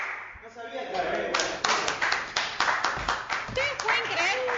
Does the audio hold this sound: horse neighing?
no